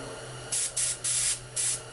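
An airbrush spraying paint at low pressure onto a miniature, four short hissing bursts in uneven rhythm, close and fairly quiet, with brief pauses between.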